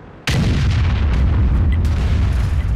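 Tank cannon fire in World of Tanks from a Waffenträger auf Panzer IV tank destroyer, a single sudden heavy blast after brief quiet, followed by a long loud rumbling boom and battle noise that sustains to the end.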